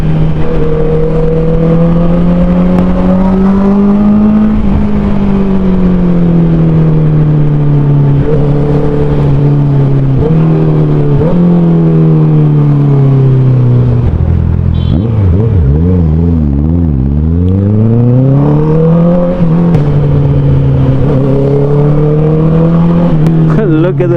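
A Honda CBR 650R motorcycle engine revving with its dB killer removed, loud and close, the pitch climbing through gears, dipping and sweeping back up in repeated surges, with wind noise over it.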